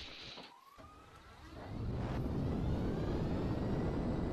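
A jet aircraft in GTA Online, heard close, as a steady, loud engine roar swelling after a brief dip and holding through to the end; a faint whine rises in the first half.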